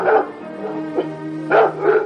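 Several dogs bark and yip at arriving guests in a radio drama sound effect, loud and close, with three or four quick barks spaced over a steady whimpering, whining tone.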